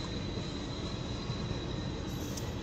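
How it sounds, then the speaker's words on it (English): A BNSF eastbound intermodal freight train rolls past the Milton Road crossing on the CSX main line near Deshler, giving a loud, steady, close rumble of wheels and cars that holds without a break. "This is a BNSF eastbound Intermodals train."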